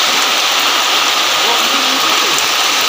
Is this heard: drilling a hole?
no